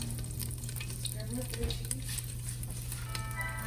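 Vegetables sizzle and fry steadily in a hot pot for a creamy Tuscan chicken soup, a close, continuous crackle with some stirring while a voice talks.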